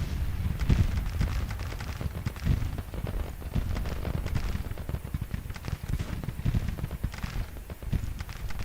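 American Civil War battle in the Grand Tactician strategy game: dense, rapid crackling volleys of gunfire mixed with heavy low artillery booms, relentless and continuous across the whole stretch.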